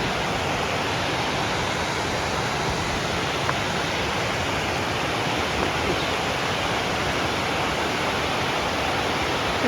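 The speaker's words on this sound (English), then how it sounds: "It's a nice little waterfall." Small waterfall in a forest setting, a steady broadband rush of falling water heard up close, constant and unbroken throughout.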